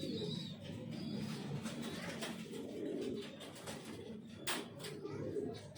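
Pigeons cooing softly and repeatedly at close range, with low throaty calls and some fluttering and shuffling around them.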